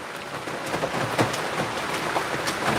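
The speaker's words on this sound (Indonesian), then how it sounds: "Ini posisinya hujan." Steady rain falling outdoors at a graveyard, a dense even patter with scattered sharper drops, fairly close and continuous, with no voices.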